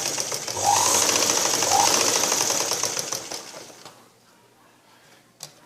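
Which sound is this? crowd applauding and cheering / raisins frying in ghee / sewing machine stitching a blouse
sewing machine stitching a blouse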